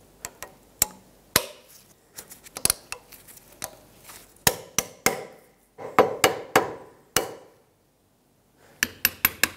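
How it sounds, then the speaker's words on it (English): Sharp metallic taps seating a seal on a front wheel bearing and hub of a 1996-2002 Toyota 4Runner, a series of close, separate knocks in irregular bursts with short pauses between them. "Give it a couple taps to make sure it's seated."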